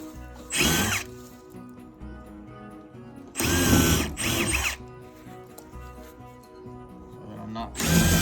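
A power drill pre-drills holes in wood while fitting a window during a camper build; three loud, close whirring bursts come at irregular intervals, with quieter background sound between them.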